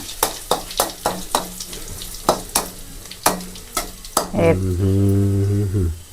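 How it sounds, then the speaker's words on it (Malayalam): Mustard seeds and onion hitting hot coconut oil in a Kerala kitchen: a run of sharp popping crackles and spoon taps, then a loud sustained sizzle as the onion goes in, close up. "ഇതാ നമ്മൾ കടുകിട്ട് കൊടുക്കണം"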